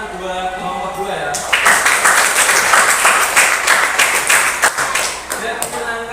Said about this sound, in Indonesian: kasih tepuk tangan buat kelompok 2 ya